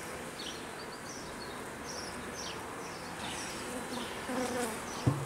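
Honeybees cluster on a hive frame in a nucleus colony, giving a soft, steady buzzing hum. It is faint and continuous, with a brief knock near the end.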